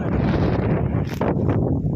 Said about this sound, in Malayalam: സംസാരം കേൾക്കില്ല കാരണം അത്രയും കാറ്റ്